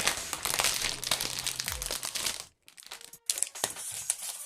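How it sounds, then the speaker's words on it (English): Plastic seal tape peeling off an Apple iPad 10.2-inch Space Gray box, close crinkling and tearing rustle that cuts out briefly midway, then a few softer crackles resume. "Let me take the tape off, the seal off of here."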